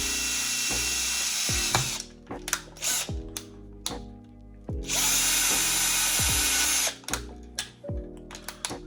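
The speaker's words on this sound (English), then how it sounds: "So I'm just going to drill a couple of holes here." A power drill bores a few holes in a Neutrona Wand part from a GPStar Supreme kit, in several bursts of whirring and grinding with short pauses between them as the bit spins up and stops.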